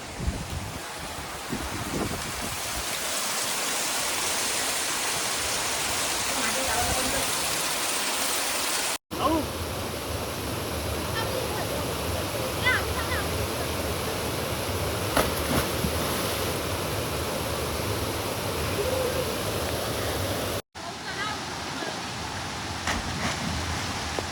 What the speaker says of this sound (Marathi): कडक असा पाऊस मंडळी